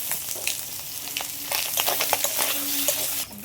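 Chopped onions hit hot mustard oil for a Bengali bhola fish and potato curry, giving a steady close sizzle broken by scraping stirs and light spatters, with no talking.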